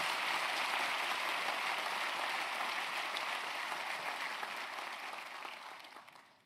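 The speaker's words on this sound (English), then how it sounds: "deserves another round of applause" Large graduation ceremony audience applauds in a continuous, even roar of many hands, heard somewhat distant and reverberant, tapering off at the close.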